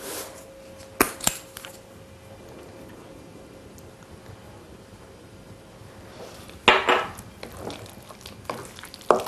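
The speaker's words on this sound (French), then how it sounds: "je fais le tour de mon plat en tapotant la cuillère de façon à ce que ce soit réparti partout" Metal spoon tapped around the edge of a dish to spread pepper over a spinach tart filling: a few light clinks near the start, then a denser cluster of small taps and scrapes later, quiet kitchen background, no talk.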